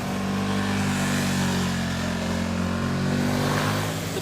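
A KTM motorcycle engine pulls hard under acceleration, a loud close steady roar with rising harmonic tones sustained throughout and no talk.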